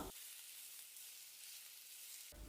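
Garlic, ginger and coconut pieces are sautéed in a pan for Kerala-style pork varattiyathu, giving a steady, soft sizzle throughout with a brief clatter at the start and end.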